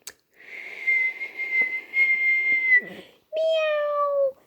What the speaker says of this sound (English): She gave a curious low whistle.